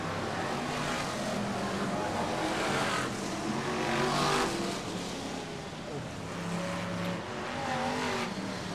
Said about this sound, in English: What a tremendous sight it is to see all these red tops absolutely charging around the circuit.